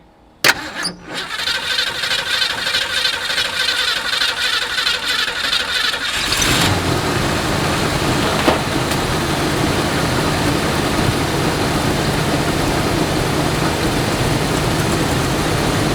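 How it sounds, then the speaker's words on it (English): A 1969 Ford Ranchero engine cranks with a whirring starter for several seconds, then catches and settles into a loud, steady, rumbling idle that runs on to the end, with no talking. "Pumping twice. 2 pumps. And starting."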